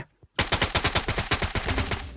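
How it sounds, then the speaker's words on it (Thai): Rapid automatic gunfire from the mobile video game Free Fire, a loud close burst of roughly fifteen evenly spaced shots starting abruptly after near silence. "ฝั่งนี้มีเสียงปืน"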